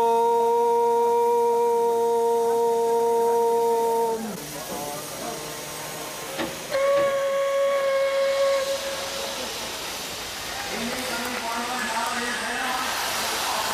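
A steam locomotive on Indian Railways blows a loud, sustained whistle that cuts off, sounds again briefly, then gives way to broad, continuous hissing steam, with the whistle returning faintly near the end.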